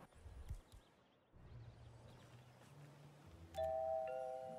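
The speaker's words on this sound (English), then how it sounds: "Ring doorbell." A doorbell rings at a house entrance, a bright sustained chime rising in the last second over steady low rumble and faint background noise.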